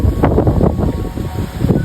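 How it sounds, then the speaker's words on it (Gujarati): A strong storm wind blows around a house whose metal roof sheets have been torn away, roaring and buffeting the microphone in close, loud gusts that rise and fall without any talking. "જો વાવાઝોડું ચાલુ જ છે, બંધ નથી થયું."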